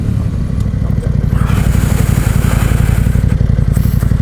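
A KTM 790 Adventure R motorcycle ridden at low speed, its engine a loud, close, steady low throb with a pulsing rhythm under light wind noise.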